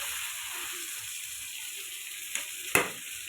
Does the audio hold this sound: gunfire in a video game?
no